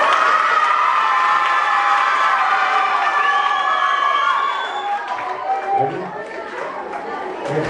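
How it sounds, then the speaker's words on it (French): Students in a school gathering cheering, shouting and clapping together, a loud dense crowd roar with high children's voices that eases slightly toward the end into excited chatter. "Oui, ben on applaudit très fort."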